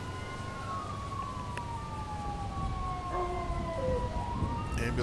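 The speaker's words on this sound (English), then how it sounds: "Ambulance is coming from" Ambulance siren in the FiveM police game, wailing tones sweeping up and down over engine rumble, with other siren tones overlapping and growing slightly louder toward the end.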